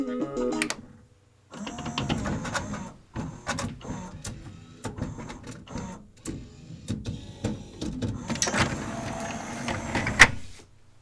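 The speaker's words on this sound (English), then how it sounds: "now I'm going to have it eject the disc tray" Pioneer CLD-M301 laserdisc player and five-disc CD changer pushing out its full 12-inch laserdisc tray: close mechanical whirring with a run of clicks and clunks, broken by brief pauses and ending in a sharper click.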